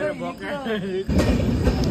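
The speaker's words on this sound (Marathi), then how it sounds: "ट्रेन चालली गाईस आणि खूप छान वाटतंय ट्रेन बघून" A person talks briefly, then a loud rumbling rush of a passing train from Mumbai bound for Manmad takes over, close and continuous.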